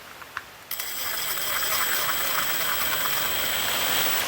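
A Makita screw gun runs with a steady, high whine that starts abruptly after a few faint clicks and holds at an even pitch to the end, close and fairly loud.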